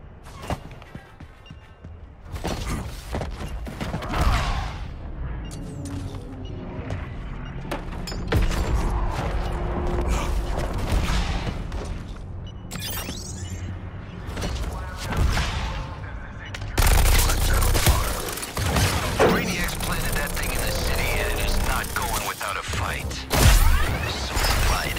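Heavy booming blasts and mechanical clanks from a giant cannon firing in the video game Suicide Squad: Kill the Justice League, with repeated gunfire-like bursts and shouting voices throughout.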